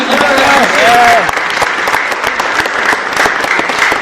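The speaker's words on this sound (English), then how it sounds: "Give him a big round of applause." Audience applause at a school assembly, a steady wash of clapping from a crowd lasting the whole stretch, with a voice briefly carrying over it near the start.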